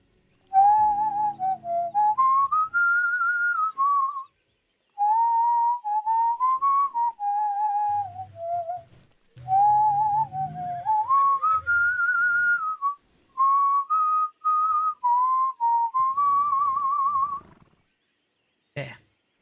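A person whistles a wandering tune in several sustained phrases with short pauses between them, clear and close, ending with a brief click.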